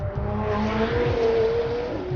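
A 2017 McLaren 720S sports car engine hums with a steady, throaty drone that swells slightly in pitch and volume, with a faint tire-on-road texture underneath, heard up close and continuous.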